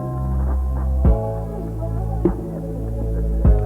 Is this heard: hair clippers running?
yes